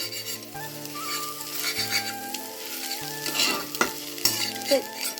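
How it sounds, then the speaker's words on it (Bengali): Scrambled egg with onion and chilli fries in oil in a pan, a close, steady sizzle with stirring scrapes and clatter over a faint repeating tonal hum in the background. "দেখ যে হলো আমার ডিম ভাজা ঝুরি ঝুরি ডিম ভাজা"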